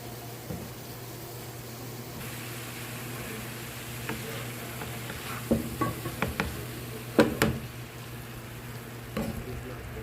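A spoon stirs reheated, previously frozen rice in a pot for pork and string bean fried rice, with scattered scraping clinks over a faint low hum; soft and close, without speech.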